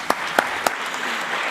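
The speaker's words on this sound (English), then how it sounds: "Round of applause." Sparse clapping from an audience at a national youth forum on corruption in Kenya, three distinct claps spaced evenly over a faint hiss, with no voices.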